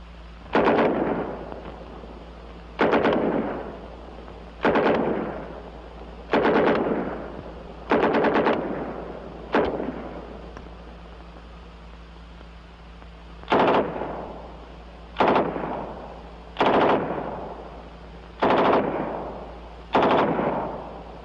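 An M3 .45 caliber submachine gun fires in a string of short bursts with a long pause partway through, each burst a sharp, loud rattle that decays quickly over a low hum.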